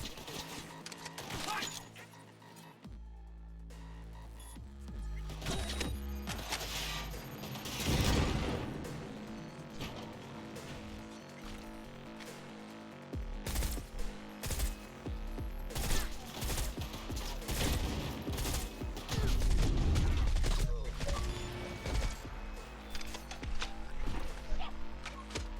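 Gunfire in Cyberpunk 2077 comes in irregular bursts of loud, sharp shots over a dense bed of game music and effects, with heavier volleys in the middle and toward the end.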